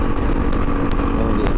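Honda XR200R motorcycle engine running at speed near 90 km/h, a loud, steady buzzing drone with wind rush, close and continuous.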